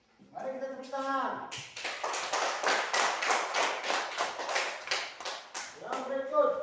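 A small group of people clapping hands in a classroom setting, a short burst of brisk, fairly close applause lasting several seconds, with a voice talking just before and after it.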